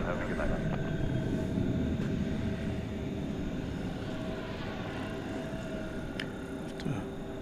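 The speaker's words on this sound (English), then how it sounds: "American Flight 577 off to Denver, Colorado," An American Airlines Airbus A321 takes off at night from DFW Airport, giving a steady, fairly distant jet engine roar that holds throughout, with a faint voice in the background.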